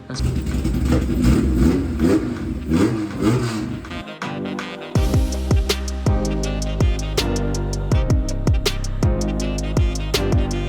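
A 427.2-horsepower race car motor at a race shop roars loudly nearby, droning steadily, then cutting out briefly before firing back with a series of rising revs.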